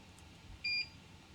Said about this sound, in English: so there's our color change cue. There's the obnoxious beep.